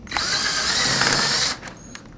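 A power drill whirs steadily for about a second and a half while pre-drilling a pilot hole at a marked hinge location for a direct-mount installation, then winds down with a few brief trailing whirs.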